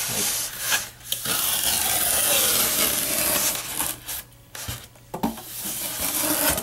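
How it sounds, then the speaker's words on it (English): A large carving knife shaves off pieces along the edges of carved wood, giving a steady close scraping rasp broken by short pauses and a few sharper cuts, with no talk. "So this is one way I like to use my big knife, just to trim off pieces at the edge."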